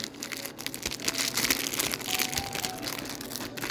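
Crinkling and tearing of a Pokémon card booster pack wrapper being opened, a close, irregular rustle of plastic foil crackles throughout with no talking.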